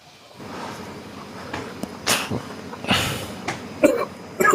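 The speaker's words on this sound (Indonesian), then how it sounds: "Bentar aku batuk dulu." A few short, harsh coughs and throat noises in bursts, fairly close, with quiet pauses between them and no talking.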